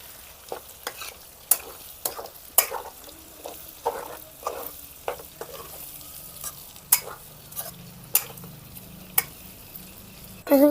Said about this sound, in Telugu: ముక్కలు వేసిన కాబట్టి ఒకసారి తిప్పుకుంటున్నాం